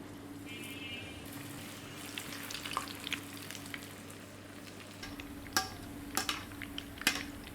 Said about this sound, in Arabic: لما نيجي نحمر القطايف لازم الزيت يكون زيت غمر